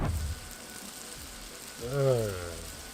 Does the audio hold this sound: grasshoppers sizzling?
yes